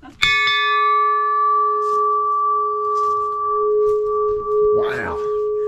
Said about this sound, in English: he wants to ring this bell, so we're gonna let him ring this bell